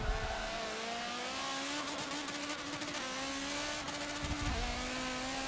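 A Nissan GT-R GT3 race car engine in a Forza 7 endurance race replay holds a steady loud drone, with brief shifts in pitch around the gear changes and faint tyre noise. No one talks.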